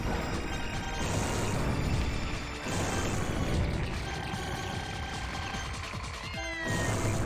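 Cat meowing in the shoot-'em-up game Castle Shikigami 2, with short mews mixed into dense game effects, electronic tones and background music, all at a steady, fairly loud level.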